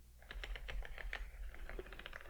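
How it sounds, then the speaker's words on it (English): Quick clicky keystrokes patter on a clicky computer keyboard in a steady run, close and crisp against a low hum. "I really like this keyboard a lot. It's got a good little clickety clackety sound."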